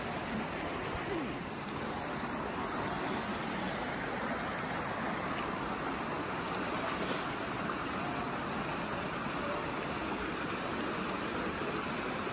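A creek on Roan Mountain along the Appalachian Trail flows steadily in heavy snowfall: continuous rushing water, a broad even wash of sound with no pauses, fairly loud and close.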